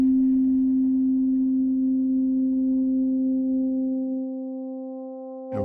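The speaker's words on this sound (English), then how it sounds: "we get kind of the same sounds as we did when I was doing linear frequency modulation earlier, but this is phase modulation" A steady synthesized phase modulation tone holds a single pitch with bright overtones, then fades a little near the end before a brief new attack; no voices.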